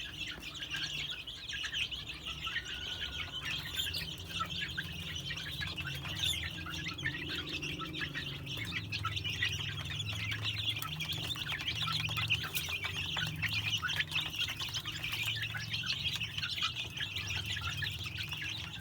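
Desi hen chicks chirp inside a brooder coop on a small poultry farm, filling the air with a steady, dense chorus of high peeping calls, with occasional clucks and wing flutters mixed into the constant twittering.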